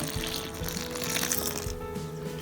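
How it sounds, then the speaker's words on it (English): Water poured into a bowl of corn tortilla dough mix with salt and butter, a soft continuous trickle at low volume with no voices. "So we add in some water."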